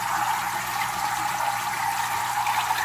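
Water from a small bucket gushes steadily into a community fish tank during a water change, a continuous close splashing pour with no pauses or talk.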